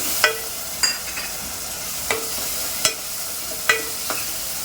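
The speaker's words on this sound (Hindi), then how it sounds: "उसी के साथ में मैं इसमें टमाटर डाल दूँगी" Tomatoes tossed with green chilli, garlic and cumin in a pan for ragda masala: a soft continuous sizzle with about six sharp spatula knocks spaced roughly a second apart, close by, no voices.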